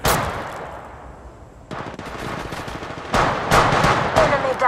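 Automatic weapon fire in the video game Apex Legends: a loud opening burst decaying away, then after a pause renewed rapid shots building into sustained bursts toward the end, close and punchy.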